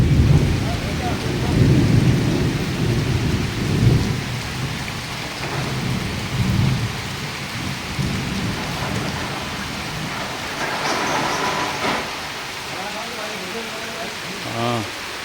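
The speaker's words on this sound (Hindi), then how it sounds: "ये बारिश, बादल गरज रहे हैं" Heavy rain pours steadily on surfaces during a monsoon storm while thunder rumbles low and loud in several rolling waves, with a voice speaking faintly beneath the downpour.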